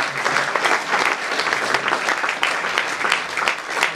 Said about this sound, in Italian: Anche qui l'applauso.